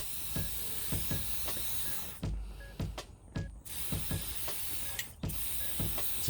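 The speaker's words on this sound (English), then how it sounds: "we're just gonna get this thing a WD-40 bath" Repeated short hissing bursts of WD-40 aerosol sprayed onto a disassembled small engine, several spurts of varying length close to the microphone, with metallic clicks between them and no talking.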